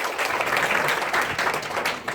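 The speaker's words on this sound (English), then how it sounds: "Big applause for yourself." Applause from a live audience at an evening health talk about cancer prevention, steady dense clapping filling the room for about two seconds without pause.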